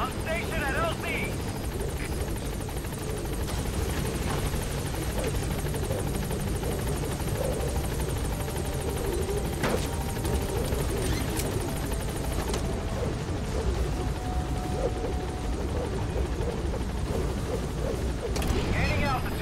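A helicopter coming in to a landing zone in Metal Gear Solid V, a loud, steady rotor thump and engine roar throughout, with radio voices speaking over it.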